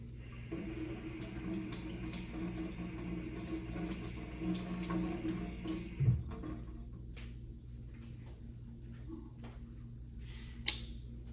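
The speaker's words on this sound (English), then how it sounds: "Wash the knife so there's no more peanut butter on it" A kitchen tap runs over a knife being rinsed of peanut butter, a steady close stream of water with small clinks, then the flow cuts off partway and faint handling noises follow.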